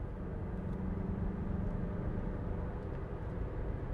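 Engine of a 2021 Mazda CX-30 Turbo droning steadily from inside the cabin, a low rumbling hum with a faint rising tone as revs build around a gear change, continuous and moderately loud with no talking.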